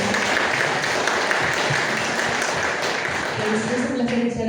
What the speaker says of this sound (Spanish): Recibimos con un caluroso aplauso a Yolanda Salazar Olivares.